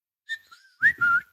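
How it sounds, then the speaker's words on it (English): A short whistled sound effect: a brief tonal chirp, a faint sliding whistle, then two louder sustained whistled notes, heard close and alone. "That was supposed to be a whistle."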